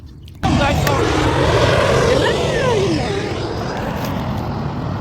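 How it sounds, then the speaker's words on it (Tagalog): An airplane passes overhead during an outdoor birthday meal. Its broad engine roar rises suddenly and holds loud and steady, with a sweeping pitch, while people chat nearby. "Dumaan yung eroplano guys."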